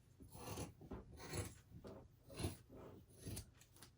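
Scissors cutting through sock fabric for a DIY snow gnome craft, four or five slow rasping snips in a steady rhythm, close and quiet, with no talking.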